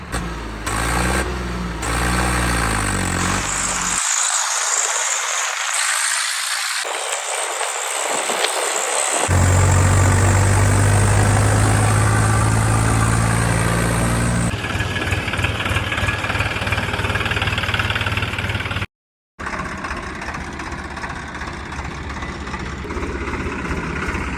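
A modified Swaraj 855 turbo tractor uprated to about 65 horsepower on 18-inch tyres, its engine running loud and steady with revving and shifts in pitch, close by with no talk, and a brief cut near the end.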